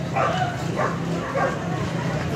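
Dogs at a dog show held among other animal competitions, a few yipping barks in quick succession at moderate distance over crowd murmur.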